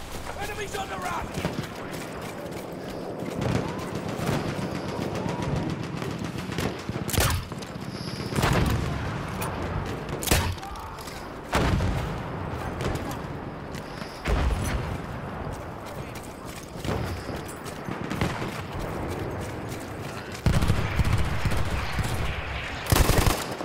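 Parabellum machine gun firing in a video game on the Passchendaele map: dense, continuous rapid fire with scattered heavy booms and distant battle noise, under frequent in-game shouting and a player talking throughout.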